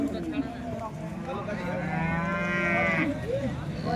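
A young purebred HF calf at a busy cattle market lets out one long, loud, drawn-out moo up close, over a constant crowd murmur with distant voices.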